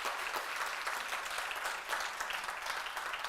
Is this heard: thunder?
no